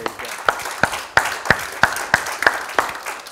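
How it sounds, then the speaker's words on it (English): A church congregation at a Sunday service claps in unison, about nine sharp, evenly spaced claps ringing out in a steady rhythm over a faint murmur of voices. "Give the Lord a hand clap this morning."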